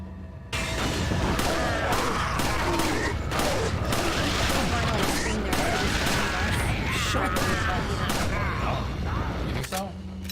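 Resident Evil 4 gunfire, with a pistol in use: a steady, loud barrage of shots and clattering impacts runs almost the whole time under busy game noise, then cuts off briefly near the end.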